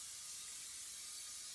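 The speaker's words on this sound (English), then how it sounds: "I just spray some olive oil into a pan" Olive oil is sprayed into a pan from a spray can as a steady, even hiss that fills the whole moment, with no voices.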